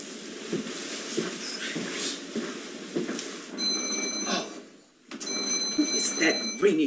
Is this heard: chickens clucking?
no